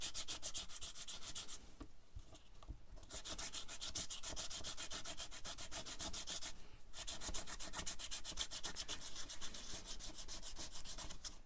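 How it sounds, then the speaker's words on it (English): Paper napkin washi tape rubbed back and forth onto a surface, a steady close scratchy rubbing that runs almost continuously with brief pauses and no talking. "rubbing backwards and forwards again is the best way"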